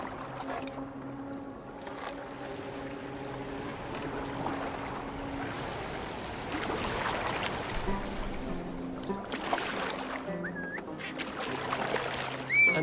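A boat steered across open water in Assassin's Creed Valhalla, with soft sloshing and rushing water under wind, quiet and continuous with faint creaks and game tones drifting through.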